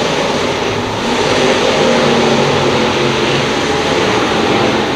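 Modified race cars roar around a dirt track, a dense, loud, continuous engine drone of several cars at once swelling slightly midway, with no talk over it.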